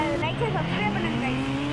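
A motorcycle engine revs in the Indian Bikes 3D video game, its tone climbing steadily as the bike accelerates, loud and close, with a voice talking over it.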